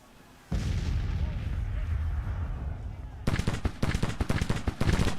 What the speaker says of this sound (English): We'll keep shooting them up.